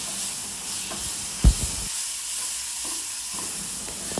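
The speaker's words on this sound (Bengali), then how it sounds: "তো এটা মিশিয়ে ভালো করে ফ্রাই করে নিচ্ছি।" Paneer bhurji with Kashmiri chili powder fries in a pan, with a steady soft hiss and sizzle, one sharp knock of a spoon against the pan and a few lighter stirring taps.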